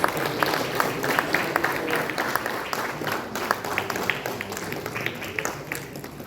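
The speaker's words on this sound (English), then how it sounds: "Ladies and gentlemen, a big round of applause." A large audience gives a big round of applause at a North East India startup event, a dense, steady wash of clapping held for several seconds without speech.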